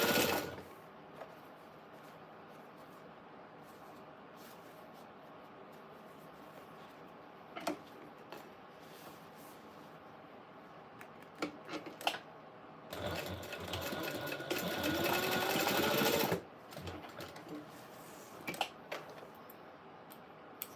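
A sewing machine bastes the edges of a bag closed, running in a steady whirring stretch broken by pauses, clicks and one louder, faster burst of stitching near the middle.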